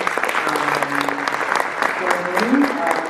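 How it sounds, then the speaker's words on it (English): A conference audience at a summit gives a sustained round of applause, dense continuous clapping filling the hall, with a voice faintly audible underneath. "Can we have another round of applause"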